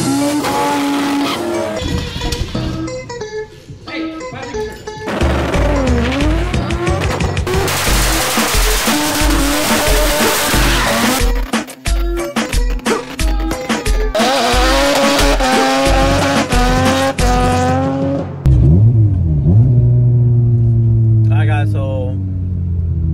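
A Mazda RX-8 with an angle kit drifts, its rotary engine revving and bouncing off the limiter through repeated loud tire squeals. A car runs close and loud nearly the whole time, ending with a final squealing slide.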